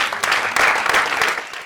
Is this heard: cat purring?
no